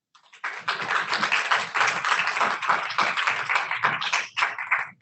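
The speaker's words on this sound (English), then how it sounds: "let's give a round of applause to our great MC for today" A small audience at an ethics day keynote event claps for the emcee, producing a close, busy patter of hand claps that starts abruptly, holds steady, and ends sharply.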